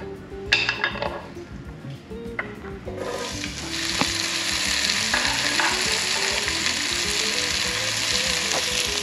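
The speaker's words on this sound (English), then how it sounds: "In the same frying pan, you are going to add your onions." Onions sizzle and fry loudly in a pan, with a few clinks and scrapes of a utensil stirring as the sizzle builds and holds steady.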